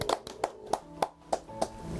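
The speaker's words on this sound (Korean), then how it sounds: "네, 박수." A small audience gives a few slow, evenly spaced claps, about seven sharp hand claps over two seconds, close and moderately loud, during a Korean human-documentary segment about an illustrator.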